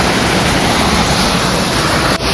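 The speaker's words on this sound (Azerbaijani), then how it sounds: "Dağların arası ilə belə gözəl şəlalə axır." A mountain waterfall flowing between hills near Quba roars loud and steady as broadband rushing water, continuous throughout with no voices.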